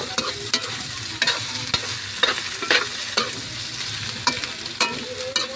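Egg frying in a pan of pork sisig while being stirred, a steady sizzle broken by repeated scraping strokes of the spatula at an even rhythm, close and fairly loud.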